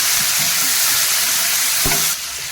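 Chopped onion and tomato sizzle and crackle steadily in hot oil in a pan for a spinach and green gram gravy, a close, continuous frying hiss with a few stirring knocks.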